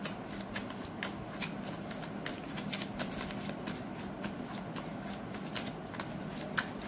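Tarot cards are shuffled by hand in quick, steady riffles and flicks, a close dry papery patter running continuously with no talk.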